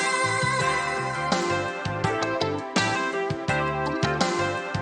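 Kanye-style chopped sample loop, cut a quarter beat early, with a punchy low beat and layered melodic sample chopping along in a steady rhythm, full and upfront without voices.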